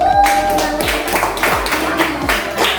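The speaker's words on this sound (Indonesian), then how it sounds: "tepuk tangan untuk kelompok satu" Several sharp claps in an irregular, loosely timed rhythm, close and fairly loud, from a small group of second-grade children in a classroom.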